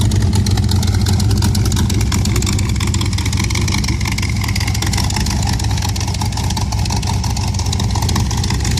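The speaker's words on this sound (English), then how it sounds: "that engine's rattling that plate down there" A 350 engine in a 1923 T-bucket hot rod idles loud and close, a rough, lumpy rumble with a metallic plate rattling along continuously for the whole stretch.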